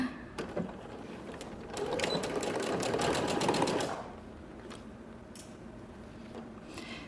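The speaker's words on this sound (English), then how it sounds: "As I am sewing this collar area" A sewing machine runs a straight stitch along a garment collar. It starts with quiet, scattered ticks, then whirs in a close, rapid burst for about two seconds before dropping back to soft intermittent clicks.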